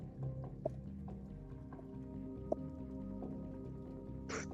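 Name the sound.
horse hooves clip-clopping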